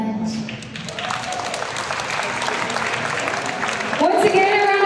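An audience claps for a newest BioEssence ambassador, dense sustained applause filling the room as a voice speaks over it, with the clapping ending abruptly near the close.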